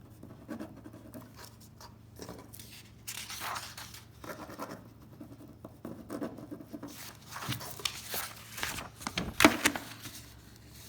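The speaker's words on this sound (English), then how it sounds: "turn them around and write your name" A pencil writing a name on a paper maths worksheet, soft close scratching strokes in short irregular bursts over quiet room noise, no speech.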